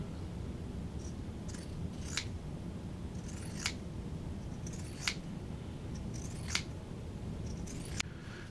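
Pinking shears snip through quilt fabric in about six crisp, evenly spaced cuts, each a sharp metallic crunch over a low, steady background hum, close up and with no talking.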